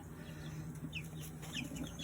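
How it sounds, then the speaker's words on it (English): Small chicks or young fowl kept in an outdoor pen, giving soft high peeps and clucks scattered over a steady low hum, close by with no voices. "I'm super nervous about leaving these small birds out here in this pen"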